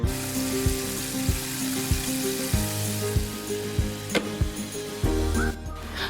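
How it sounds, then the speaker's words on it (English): Chicken frying in oil for crispy Jamaican-style fried chicken, a steady bubbling sizzle up close with periodic clunks and taps of pieces being moved, and no talk. "we're gonna let them fry for 15 minutes, 15 to 20 minutes"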